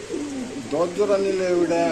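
Racer and giribaz pigeons for sale cooing close by in low, throaty rolling bursts that swell and hold, with someone talking over them.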